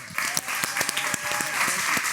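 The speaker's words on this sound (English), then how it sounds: "Big applause for Tim" A studio audience on a music talk show claps for a Taylor Guitars artist representative, with sharp close claps over a broad wash of applause and a voice briefly audible.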